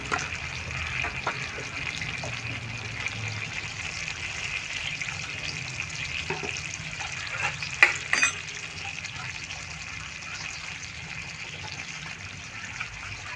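Fish roe curry with mango, turmeric, cumin and salt sizzling in a pan, a continuous soft fry with a few louder scraping stir strokes partway through.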